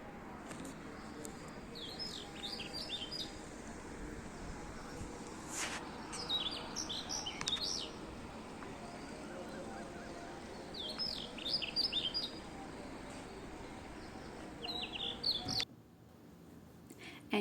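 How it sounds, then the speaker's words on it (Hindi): Small birds chirp in short bursts, repeated calls every few seconds over a quiet outdoor hum; the background drops away abruptly near the end. "इतनी अच्छी आवाज़ें आ रही थी चिड़ियों की"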